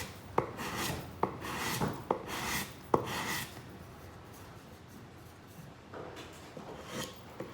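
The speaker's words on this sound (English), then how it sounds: "It's kind of hard to just sand instead of cut that floppy part off." Sandpaper rubbing back and forth over hardened resin drips on a canvas edge, in a run of rhythmic close strokes that soften and slow toward the end.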